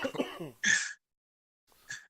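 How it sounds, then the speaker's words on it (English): A person close by clears the throat in a rough, harsh burst, then a quieter cough-like rasp follows after a pause, with a short vocal sound at the start. "cough up all the shit out of my lungs"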